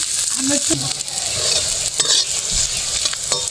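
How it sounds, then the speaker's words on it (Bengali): Crushed garlic and two chillies frying in oil in a pan, a continuous bright sizzle with scraping stirs and occasional clinks from a spatula, close and without talk. "রসুনটা আমার ভাজা ভাজা হয়ে গেছে"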